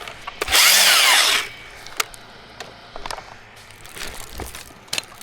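A cordless drill used outdoors while cutting a tall pine gives one loud, close whirring burst of about a second, followed by scattered knocks and clatters against quiet outdoor background, with no talking.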